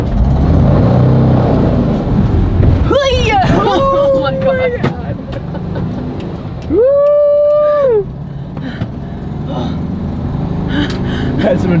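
A manual car driven by a first-time learner revs its engine in rising and falling surges, with a sustained high rev near the end, while people talk over the steady road and engine noise.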